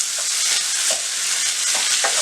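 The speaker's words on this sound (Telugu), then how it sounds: "ఒక టమాటాని స్మాల్ పీసెస్గా కట్ చేసుకొని వేసుకొని ఒక 2-3 మినిట్స్ ఉడికించుకోవాలి" Small tomato pieces fry for pav bhaji with a loud, continuous sizzle and hiss, stirred now and then with soft scraping, and no talking.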